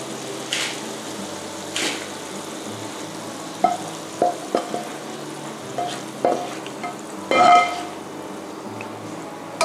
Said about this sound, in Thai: หลังจากที่ได้น้ำราดที่จนเหนียวข้นดีแล้วนะคะเราก็จะตักราดบนตัวปลาเลยค่ะ